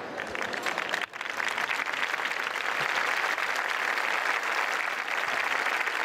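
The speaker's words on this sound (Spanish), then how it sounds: "Aplausos para la Legión," Sustained crowd applause for the Spanish Legion after it carries a Christ figure at a Good Friday procession, dense clapping throughout with a brief dip near the start.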